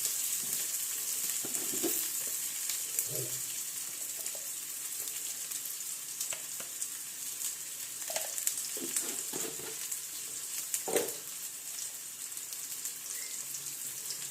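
Ivy gourd stir-fry sizzles in a small pan with a faint, steady hiss and occasional soft knocks of stirring, quiet and without speech.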